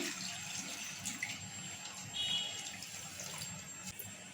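Water poured over ten freshly washed eggs in a pot for egg biryani makes a faint, steady splashing hiss with no one talking.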